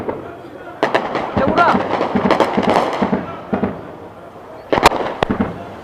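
Heavy guns firing artillery shells in a conflict area near Goma, with sharp, loud blasts and rumbling bursts that come in clusters. Voices of people talking sound throughout.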